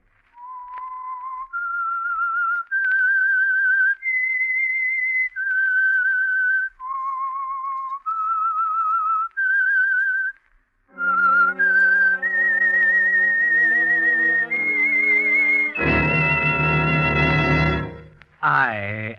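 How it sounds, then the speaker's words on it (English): A clear, melodic whistled tune, slow and evenly phrased, played alone at close range, swelling at the end into a rich, loud sustained chord. "That whistle is your signal for the Signal Oil Program"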